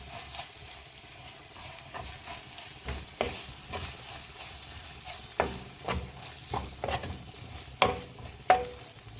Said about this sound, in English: I'm going to add ketchup, 1 big spoon, and then I mix up very well.